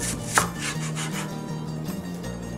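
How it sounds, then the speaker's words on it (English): Onion being chopped very finely on a cutting board for a Middle Eastern omelet, with quick, regular knife taps in a close, steady rhythm and one sharper knock near the start. "So I'm gonna chop the onion."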